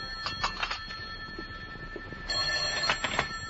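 An old-fashioned telephone rings in a radio drama, with repeated bell bursts that come in two rounds separated by a short gap. The ringing is fairly faint and heard alone.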